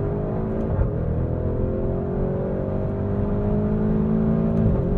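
A 2024 Porsche Cayenne Turbo GT with a torque-converter automatic accelerates hard from inside the cabin, its engine note climbing steadily before a quick gear shift and a fresh pull, with no talking.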